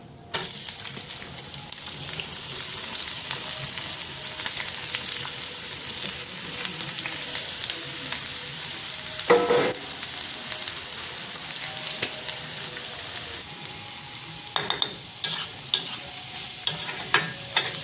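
Onions fry in hot oil in a pan, giving a continuous close sizzle, while a spoon scrapes and stirs them now and then, with a short burst of clatter midway and more toward the end.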